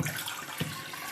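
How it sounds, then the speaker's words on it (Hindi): Two cups of water pour steadily into a cooking pan, a continuous close splashing rush with a slight bump partway through and no speech. "दूसरे पैन में भी मैं 2 कप पानी डालूंगी"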